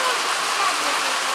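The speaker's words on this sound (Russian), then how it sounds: "Лей, дождь, лей." Steady rain pours down at night, a dense, even hiss of falling water close by with no pauses across the short stretch.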